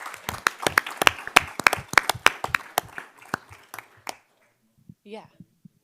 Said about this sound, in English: So we just want to say, let's clap it out for Coach Hansen.